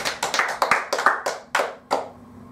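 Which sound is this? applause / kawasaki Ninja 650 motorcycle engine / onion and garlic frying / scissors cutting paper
applause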